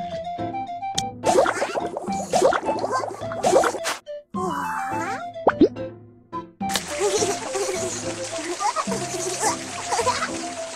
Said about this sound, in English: Let's apply some soap to wash Jojo cleaner.